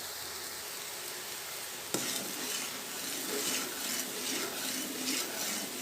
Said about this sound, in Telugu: ఇదంతా ఇలా మెల్ట్ చేస్తూ ఉండండి.